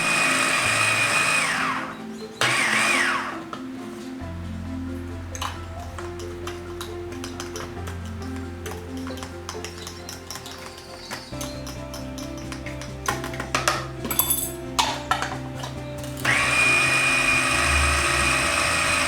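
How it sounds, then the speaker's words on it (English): A food processor blends boiled lentil peas into a thick paste, its motor whirring loudly and steadily with shifting pitch as the load changes, pausing briefly and restarting partway, no voices. "now we're going to put it in the food processor"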